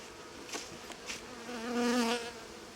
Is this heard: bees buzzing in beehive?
yes